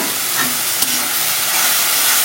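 Water hits a frying spice paste of chilli powder in a pan, giving a loud, steady, close sizzling hiss that fills the whole moment, with no talking.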